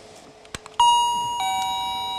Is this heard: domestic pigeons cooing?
no